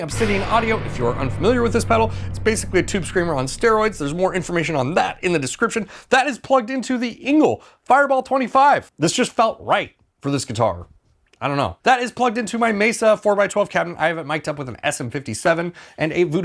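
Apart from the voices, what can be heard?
No everyday noise stands out behind the speech.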